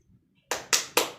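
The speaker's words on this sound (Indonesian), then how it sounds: "Kita tepuk semangat dulu yuk." A classroom of schoolchildren claps the rhythmic 'tepuk semangat' pep clap, three sharp, loud, evenly spaced clap bursts in quick succession after a short quiet pause.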